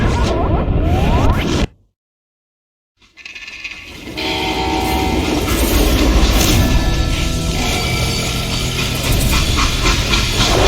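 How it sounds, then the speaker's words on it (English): A freight train in the Western shooter Call of Juarez: Gunslinger roars loud and close with hissing steam and rumbling wagons. The sound cuts to near silence for about a second, then returns as a dense, steady rolling rumble. "They hopped a freight train,"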